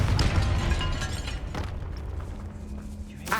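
A Confringo blasting spell explodes inside a tomb in Hogwarts Legacy, opening with a heavy rumbling boom. Crackling bursts and a lingering low tail follow as it fades.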